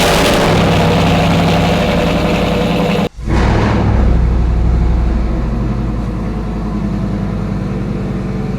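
A Chevrolet Silverado fitted with new exhaust headers idles loud and close with a deep, steady rumble that cuts out for an instant before settling back into a slightly quieter, even idle.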